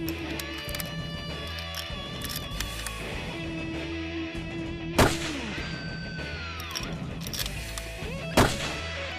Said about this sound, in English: After taking a couple of shots and realizing that the rifle was on